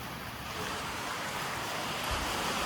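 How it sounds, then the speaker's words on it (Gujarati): Rain falls steadily in a broad, hissing wash, with a gusty, windy rumble beneath it and no voices. "અવાજ આવે છે વરસાદ"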